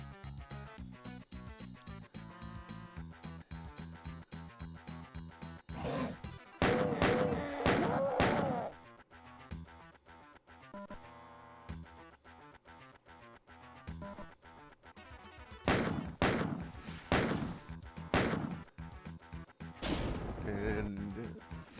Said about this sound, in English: that gentleman up there shooting fireballs at me is an imp